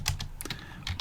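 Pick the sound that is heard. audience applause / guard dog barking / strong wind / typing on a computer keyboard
typing on a computer keyboard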